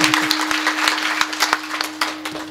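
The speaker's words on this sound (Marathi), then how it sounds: "एकदा टाळ्या वाजा प्रकाश बाबा" Audience clapping at a kirtan gathering, brisk irregular claps from a crowd with a steady electronic hum underneath, fairly loud and close.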